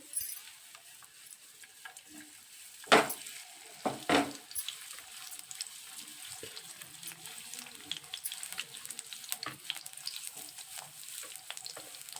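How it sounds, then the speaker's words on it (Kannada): Thick-cut potato slices frying in hot oil for a quick potato fry, a quiet steady sizzle broken by a few sharper pops and clatters, close up and without speech. "ನೋಡಿರಿ ಎಣ್ಣೆ ಕಾದೈತಿ ಅದ್ರೊಳಗೆ ಒಂದೊಂದು ಹಿಂಗೆ ಬೇಯಿಸ್ಬೇಕು ರೀ"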